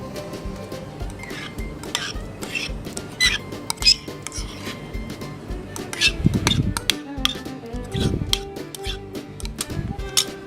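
A spoon stirs butter and sour cream in a pot in a home kitchen, giving irregular clinks and taps of metal against the pot. The knocks come close and fairly sharp, with louder thumps partway through.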